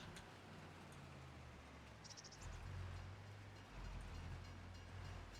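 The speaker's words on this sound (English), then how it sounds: "See what I mean about getting stuck behind these trains? They just go on and on and on." A long freight train in a Farming Simulator game rolls past with a steady low rumble and droning rail noise, a continuous loud passage with faint insect-like chirps in the background.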